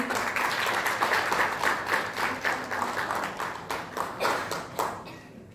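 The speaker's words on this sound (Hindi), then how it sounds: "जोरदार तालियां होनी चाहिए." Audience applause at a celebrity cricket league press event with Bhojpuri film figures, a bouquet being handed to team captain Manoj Tiwari; clapping comes in rolling swells with some sharper individual claps, fading out at the end.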